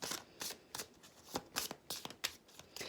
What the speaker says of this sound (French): on prend une carte pour les taureaux, une carte pour les vierges et une carte pour les capricornes